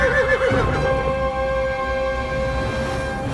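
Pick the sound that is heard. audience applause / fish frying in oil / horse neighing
horse neighing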